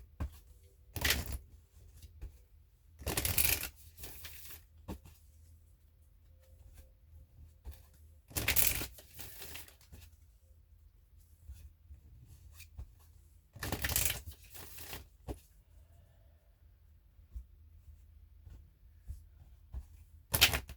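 Several separate bursts of tarot cards being shuffled, each a quick riffling flutter lasting about a second, with quiet pauses in between.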